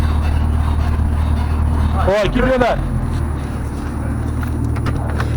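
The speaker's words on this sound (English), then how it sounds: "Oh man, that's a good ball joint squeak." Worn ball joints on a Chevy 1500HD mud truck with a shot front end give a short run of rising and falling squeaks near the midpoint, over steady engine rumble, with someone talking around it.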